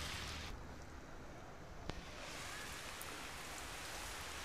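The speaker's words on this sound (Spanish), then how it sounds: "en plena lluvia, una rica lluvia que está cayendo en Jonavia." Steady, dense rainfall pours down in Jonavia, a broad hiss filling the whole stretch with one brief sharp tick partway through, and no voices.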